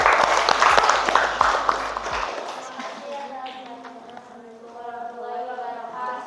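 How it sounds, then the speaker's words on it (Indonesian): Classroom students clapping for the second group after its presentation, a dense burst of applause that thins out over several seconds, with faint chatter underneath. "Udah berikan aplaus buat kelompok 2."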